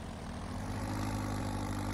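A tractor engine in Farming Simulator 22, freed from its trolley during wheat harvesting after being stuck in mud: a steady low, droning idle with a throbbing rumble, loud and alone, no talking.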